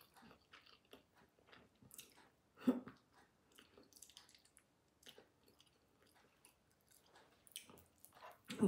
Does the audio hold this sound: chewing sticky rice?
yes